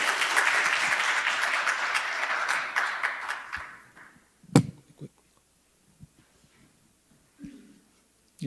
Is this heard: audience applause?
yes